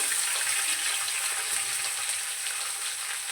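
Sliced onions, curry leaves and green chillies fry in a hot pan with cumin seeds for lemon rice, giving a steady, close, hissing sizzle that carries on evenly throughout with no speech.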